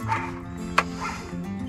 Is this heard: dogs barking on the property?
yes